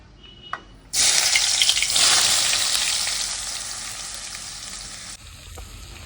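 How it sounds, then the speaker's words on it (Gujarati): Onion dropped into hot oil in a pan, a sudden loud burst of sizzling that starts abruptly after a brief quiet moment, then hisses steadily and slowly fades before cutting off, with a faint clink near the start. "તેલની અંદર ગરમ થઈ હતું તો ડુંગળી નાખી દીધી"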